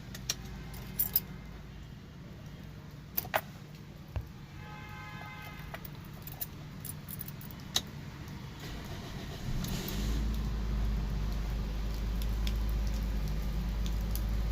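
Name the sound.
Toyota Corolla car engine starting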